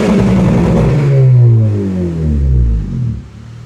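A 2013 Honda Civic Si engine revs up loudly and close, the pitch rising and then falling back over a few seconds with a slightly poppy edge, and no talking over it.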